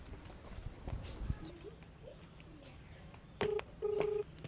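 A phone call ringing through, heard as two short electronic tone bursts near the end, faint and thin over low room noise with a few scattered knocks before them.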